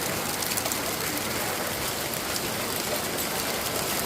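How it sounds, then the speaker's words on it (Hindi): Heavy rain pours down with big drops striking surfaces, a dense, loud, continuous hiss close by with no break. "बूंदें भी ऐसी गिर रही हैं बारिश की"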